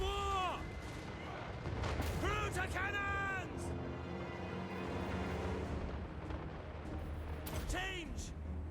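Artillery firing high explosive shells in the battle game Total War: Warhammer III, heavy booms and rumbling fire under a steady wash of battle noise, with a person talking over it.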